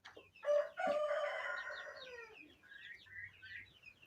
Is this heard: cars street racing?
no